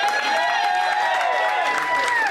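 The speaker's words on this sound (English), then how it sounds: "I want y'all to clap it up for both of them." A roast-battle comedy club audience applauds and cheers for two comedians, a dense, continuous roar of clapping and whoops with a bright sustained tone running through it.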